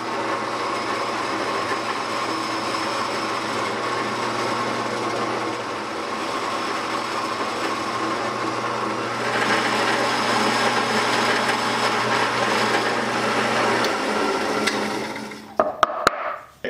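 A drill press runs steadily while drilling holes, giving a continuous motor hum with a grinding cutting texture that grows louder midway, then cuts off with a few sharp knocks.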